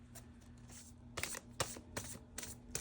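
A tarot deck is shuffled close up, with a faint soft riffle at first, then several crisp, distinct shuffles in quick succession over a quiet room hum.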